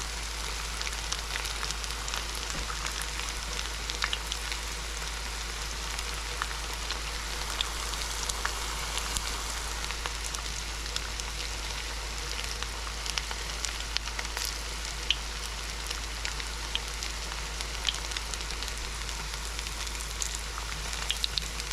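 Perilla leaves fry in hot grease with a steady, even sizzle and crackle that holds throughout. Tiny pops scatter across the fry at moderate volume, and no voices are heard.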